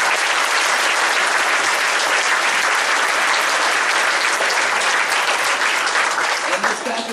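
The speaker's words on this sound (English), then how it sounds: "Can we give a round of applause for our two wonderful admin?" Loud, sustained applause from a school concert audience fills the hall, a thick continuous wash of many clapping hands with crowd noise mixed in, easing only slightly near the end.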